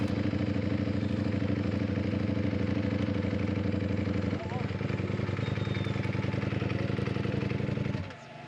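A Ducati Panigale V4S motorcycle on a track day at Pocono Speedway, heard on board: a loud, steady engine roar that dips briefly mid-ride and drops off near the end, with a voice talking over it.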